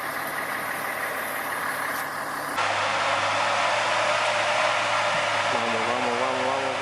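Military truck engine idling on a steep off-road hill, its steady drone filling the scene; it rises and grows louder partway through as the truck starts to climb.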